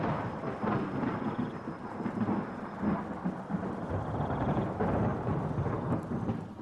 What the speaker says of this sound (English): the wind rattling the windows, and the sound of the storm pounding on the roof